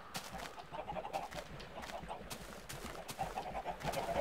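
Chickens cluck softly in a Minecraft farm, a scatter of short, quiet clucks and squawks repeating irregularly with no voices.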